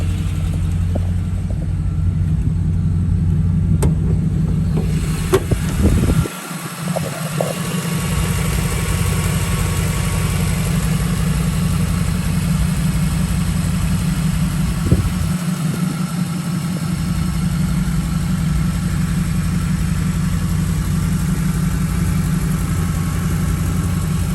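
A 1989 Pontiac Firebird engine idles steadily with a low, even rumble, close and continuous throughout, with a brief dip in level midway and no talk over it.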